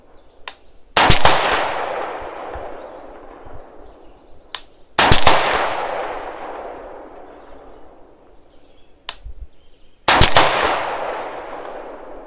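Three loud rifle shots are fired at targets on an outdoor range, each a sharp crack followed by a long rolling echo that fades over several seconds, with a couple of fainter distant shots between them.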